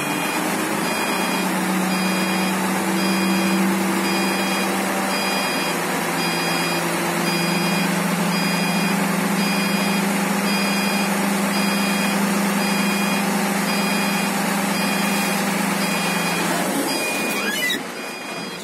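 A Hino 500 FM260JD dump truck engine runs at a steady, loud raised idle while the bed tips its load, joined by a continuous high whine and tonal beeping, then drops off near the end.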